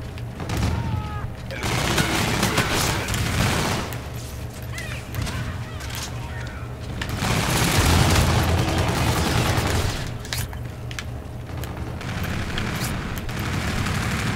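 FHR-40 rifle fire in a Call of Duty match comes in rapid automatic bursts, loud and dense, broken by short pauses and mixed with other battlefield gunfire and explosions.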